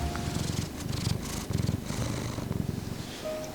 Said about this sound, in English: I don't know if there is much better therapy than snuggling with a baby cat.